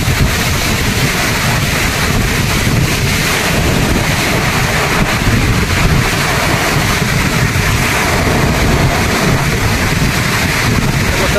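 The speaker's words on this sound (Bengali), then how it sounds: "প্রচুর হাওয়া আছে এখানে।" Strong wind buffets the microphone at Cherrapunji in the rain, a dense, constant roar of gusts and rumble that carries on unbroken for the whole stretch.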